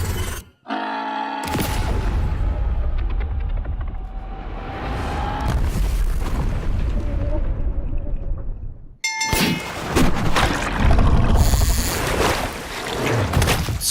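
A sharp blast rings out, followed by a long rushing, shattering roar with a ringing tone, then a second loud burst of crashing, crackling noise.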